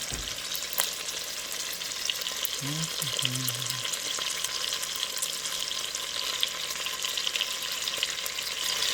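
Chicken sears in a hot pan, giving off an even, close hiss and crackle that holds steady throughout, with a brief faint tone near the middle.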